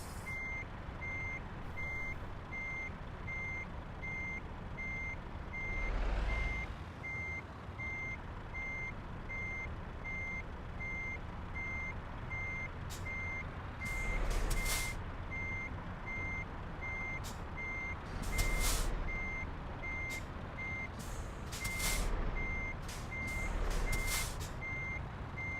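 A heavy truck in the Euro Truck Simulator game backs into a parking spot, its reversing alarm beeping steadily over a low engine drone, with occasional air-brake hisses and clunks; no talking.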